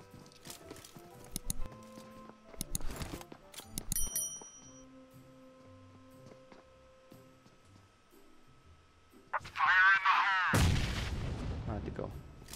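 Scattered gunshots in PUBG around Pochinki, a few sharp cracks early on, then quiet game ambience before a loud, dense burst of noise near the end.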